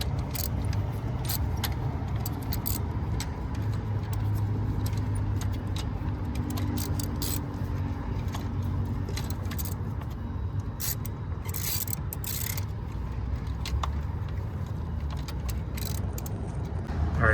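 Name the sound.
tightening spark plugs on a 2015 Kia Optima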